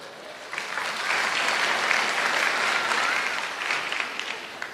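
An audience at a church sermon claps, with steady, full applause filling the room for about five seconds without a break.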